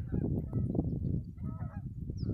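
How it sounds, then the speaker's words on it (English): A small flock of geese flying over a hay field, repeated honking calls close and fairly loud, overlapping throughout with no talking. "I'm interfering with the plans of this little tiny flock."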